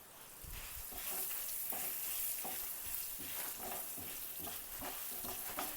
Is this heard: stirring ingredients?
yes